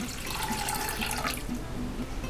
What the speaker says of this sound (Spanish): Colocamos las dos tazas de agua